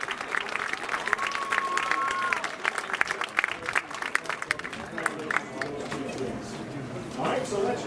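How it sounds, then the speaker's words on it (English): A football stadium crowd applauds candidates and homecoming royalty in a sustained outdoor wash of clapping and cheering, with an announcer's amplified voice talking over it. "Let's give a huge round of applause to all of our candidates and our new royalty."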